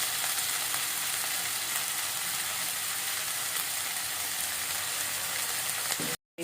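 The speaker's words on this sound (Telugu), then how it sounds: "ఇప్పుడు కడిగి రెడీగా పెట్టుకున్న వంకాయ ముక్కలు వేసుకోవాలి." Brinjal pieces frying in a pan with ginger and onions, a loud continuous sizzle with occasional stirring scrapes, ending abruptly.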